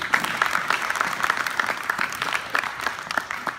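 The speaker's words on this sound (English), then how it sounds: "Give him a round of applause." An audience of high school students and guests applauds a student, with many hands clapping in a dense, steady patter that sits close and moderately loud throughout.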